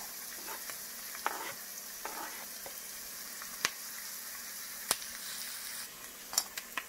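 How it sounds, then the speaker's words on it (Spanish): Garlic sizzling in oil in a frying pan for Mediterranean vegetables, a steady close crackling hiss with occasional sharp pops and light stirring clicks, no talking. "luego le vamos a agregar el ajo"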